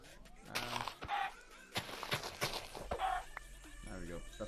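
Minecraft chickens cluck and squawk in quick bursts between game footsteps and hits, fairly quiet and close, with a voice talking over parts of it.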